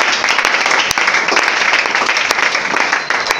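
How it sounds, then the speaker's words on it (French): A church congregation breaks into sustained applause, a dense wash of clapping with a few sharper claps standing out, loud and continuous from start to finish. "Est-ce qu'on peut acclamer encore pour ça?"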